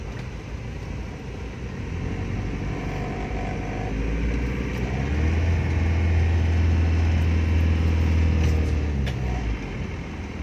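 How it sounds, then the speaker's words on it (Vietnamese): A turbocharged 2005 Isuzu Hi-Lander engine runs smoothly, a steady low hum that swells a little partway through and then holds an even, fairly loud drone, with no talking. "Máy nổ rất là êm ái chị nha"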